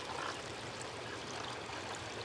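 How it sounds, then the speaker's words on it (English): Water in an outdoor hot tub bubbles and splashes in a constant, soft, close wash of fizzing and trickling with no voices. "These bubbles keep popping and splashing up"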